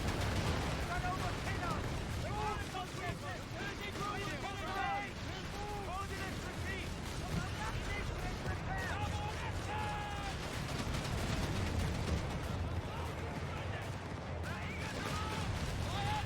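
An artillery barrage pounds away in the video game Company of Heroes 3, with steady booms and crackling gunfire mixed into a loud battle din, while a voice talks over the action.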